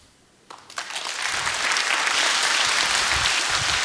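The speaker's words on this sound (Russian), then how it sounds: "Ваши аплодисменты, Андрей Сибрант" Applause from an audience at a talk on the future of technology starts with a few scattered claps and swells within a second into steady, full clapping that holds to the end.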